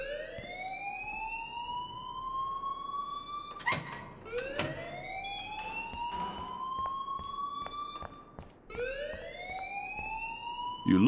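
A school alarm in the Life Is Strange video game wails loudly in repeated rising, siren-like sweeps, each climbing and then holding before the next one starts.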